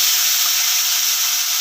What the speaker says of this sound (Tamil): நல்லா இதிலே வறுத்துட்டோம்னா சூப்பராக நமக்கு வாழைக்காய் ரெடி ஆயிரும்.